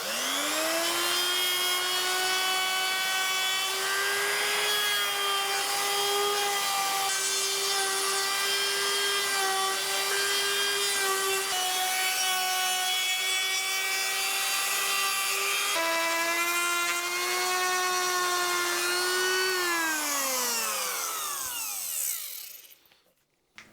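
A wood router fitted with a straight cutter trims a guitar body against a template, whining loudly and steadily near the microphone with slight pitch dips under load, then spinning down to silence at the end.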